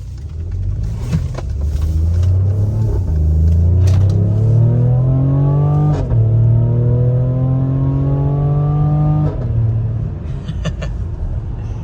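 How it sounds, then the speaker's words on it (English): An AMG Mercedes engine pulls hard while driving, a loud rumbling note rising in pitch through gears with two clear shifts, then settling near the end. "right now, I'm going to enjoy this AMG Mercedes"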